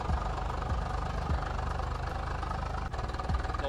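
A modified tractor engine idles close by at a gathering of tractors, a steady low throbbing chug with a faint knock running through the whole stretch and a brief dip near the end.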